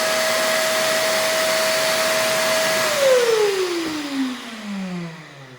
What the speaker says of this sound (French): Forcément, ça marche comme un aspirateur.